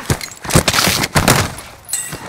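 Bursts of incoming gunfire in Call of Duty: Modern Warfare, several loud, close volleys of rapid shots separated by brief pauses, with no talking.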